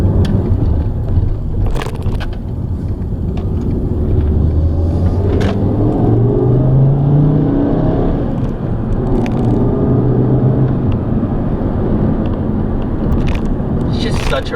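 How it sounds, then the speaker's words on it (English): The 2.5 engine of a 2007 Volkswagen Rabbit with a 5-speed manual revs up and down on a test drive, a steady cabin drone with rising pitch sweeps under constant talking. "It's just such a rev-happy and fantastic engine."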